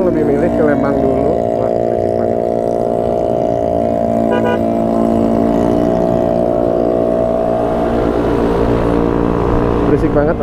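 Motorcycles fitted with loud racing exhausts idling and revving at a busy highway rest area, a continuous heavy engine drone with rising throttle surges, close and loud throughout.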